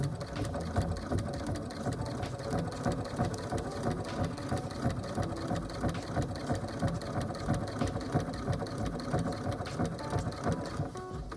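A sewing machine runs steadily, topstitching denim, a fast continuous mechanical stitching whir with rapid clicking, close and fairly loud, with no talking.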